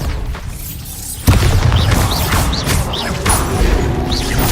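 A Bombarda spell explodes in Hogwarts Legacy, a sudden loud boom with a crashing impact, followed by rumbling debris and whooshing magical effects.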